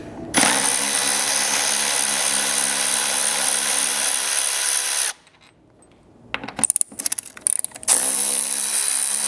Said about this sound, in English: grab a 12mm socket, and we can pull both of these bolts out of the roof here